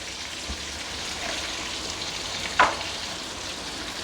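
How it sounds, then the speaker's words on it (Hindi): Raw mango pieces fry in oil for a tangy pickle-style dish, a steady close sizzle with a soft knock and one brief louder crackle as the pan is handled. "ये कैरियाँ हमारी अच्छे तरीके से ऑयल में फ्राई हो गई हैं"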